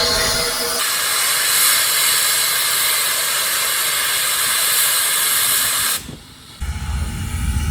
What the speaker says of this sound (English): Sounds of a steam engine, that's not something you hear very often.